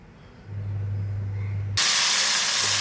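Pieces of jackfruit drop into hot frying oil, the steady low hiss of heated oil bursting into a loud, bright sizzle that carries on close by.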